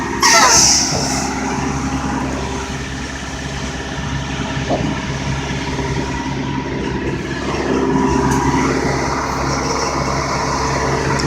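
A car reverses slowly during parallel parking, its engine a steady low hum at close range with no clear changes, under a continuous background drone.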